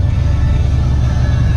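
Heavy highway traffic heard from inside a truck cab on the New Jersey Turnpike near Philadelphia: a loud, steady low engine and road rumble with a constant broadband roar and no voices.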